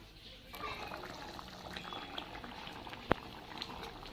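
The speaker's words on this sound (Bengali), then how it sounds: "এবার আমি মাটনটা ভালোভাবে ফুটিয়ে নেব।" Mutton boils in a pot with a quiet, continuous bubbling simmer, broken by one sharp pop of a bursting bubble.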